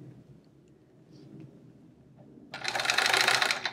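Partway through, a sewing machine starts up and whirs steadily for just over a second as it stitches a scant quarter-inch quilt seam, loud and close after a near-silent start.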